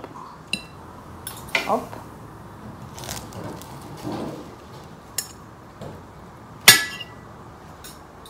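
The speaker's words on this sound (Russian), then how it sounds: "Давай сейчас тебе мяско еще отрежу." Cutlery scraping and clinking on a plate as meat is cut at a family meal, with a few sharp metallic clicks spread over the clip while people talk nearby.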